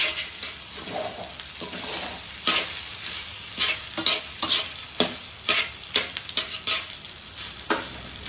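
Tamarind rice (pulihora) is stirred and fried in a pan on the stove: a close, repeated scrape of the spoon against the pan over a steady sizzle, with the strokes coming quicker toward the end.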